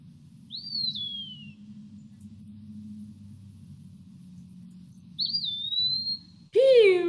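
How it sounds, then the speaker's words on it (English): An eastern wood pewee sings two clear, drawn-out slurred whistles a few seconds apart over a low background rumble, followed by a brief louder burst of another sound. "these eastern wood pewees"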